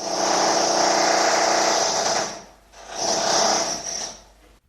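A loud power drill whirs in two bursts during an online meeting, a long run of grinding whine, a short drop, then a second shorter burst that tapers off, with no speech.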